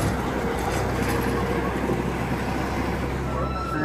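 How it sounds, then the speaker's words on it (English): Steady low rumble of a train moving off at Le Pal, with broadband rail and traffic noise throughout and faint voices in the background. "Oh, there's a train going off."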